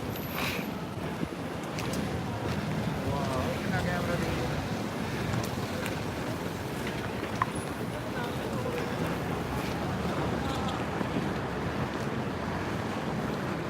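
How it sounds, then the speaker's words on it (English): Gusty wind buffets the microphone on a busy Mongkok street in Hong Kong, a loud constant low rumble with faint traffic sounds beneath it. "I think the wind's coming our direction, isn't it?"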